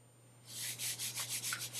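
Hand rubbing pasted paper down onto an old book cover, a run of soft rhythmic brushing strokes close up after a brief quiet start, over a low steady hum.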